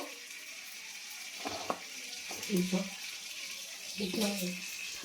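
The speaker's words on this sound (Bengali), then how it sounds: "তেজপাতাটা ভালো করে ভাজা হয়ে গেল" Bay leaf, dried and green chillies and panch phoron fry in hot oil with a soft, steady sizzle and a few louder crackles, heard close but fairly quietly.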